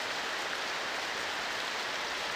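Steady, dense rain hissing evenly throughout, a soft continuous wash with no voices or other sounds.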